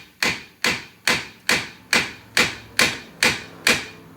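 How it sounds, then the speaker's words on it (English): A big hammer pounds a rusted rear wheel hub assembly out of an SUV in nine loud metallic blows at a steady, even pace, each ringing briefly before the next strike. "just hammer these hubs out."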